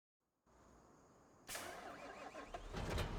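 Tractor engine starting in Farming Simulator 25: a quiet hum, then a sudden crank and catch into a louder idling rumble that builds over a few seconds.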